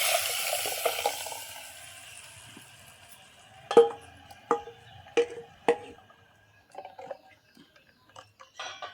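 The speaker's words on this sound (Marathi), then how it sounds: "फोडणी मस्त तडतडली ह्या आता घालूया याच्यात वाटून आणलेला ह्या वाटण" Ground paste goes into a crackling tempering of cumin, curry leaves and turmeric for a raw mango kadhi. A soft sizzle fades under a series of sharp, close pops and crackles that come every half second or so, then thin out.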